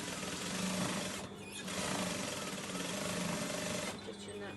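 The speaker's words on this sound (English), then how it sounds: "as I'm sewing this, I'm just using the first marker on my needle plate as a guideline" A sewing machine stitches a seam on a fabric bed runner with a dense, steady mechanical whir. It runs close and loud, with short dips around the one-second and four-second marks.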